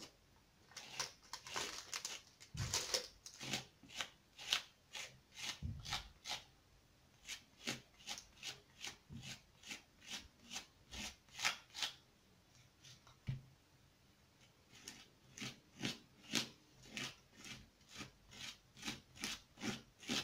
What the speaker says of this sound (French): Je colle le pochoir là aux cheveux et tout simplement, j'étale ma pâte à texture